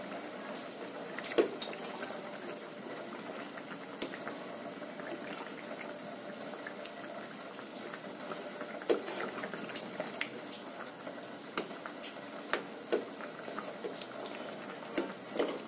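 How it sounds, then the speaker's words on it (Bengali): A pot of Bengali fish curry with potato and pointed gourd simmering, giving a continuous quiet bubbling with occasional small clinks of utensils, close and without talk. "এটাকে আর কিছুক্ষণ সময় একটু ফুটতে দেবো, ঝোলটা একটু গাঢ় হয়ে যাক"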